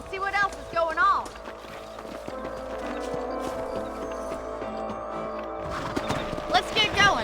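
Horses gallop across open country in Red Dead Redemption, their hoofbeats running as a steady rhythmic patter beneath the shouted voices of riders, with tack rattling and music underneath.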